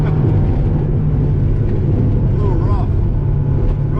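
A stock red Mazda MX-5 Miata engine drones steadily and loudly with the throttle open, a dense, continuous roar with a low rumble that holds level throughout.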